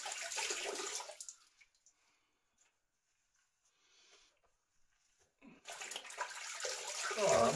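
Water splashes and runs as a face is rinsed with a flannel, a sloshing burst at the start, near silence in the middle, then more splashing and dripping close by.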